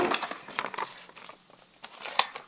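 A Winnie-the-Pooh gift bag crinkles and rustles as it is handled while a birthday present is unwrapped, with soft, busy crackling that continues through the moment and a sharper rustle near the end.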